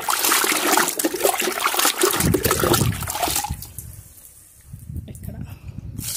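Liquid fertilizer being poured onto potted chrysanthemum and rose plants at home, splashing and trickling water that gushes loudly at first then tapers to softer dribbles, with a voice speaking over it.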